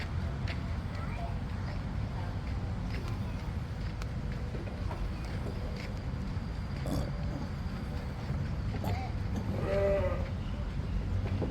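Goats bleat inside an animal barn under a steady, dense background rumble of livestock and crowd noise, with a few clearer calls rising near the end while people talk.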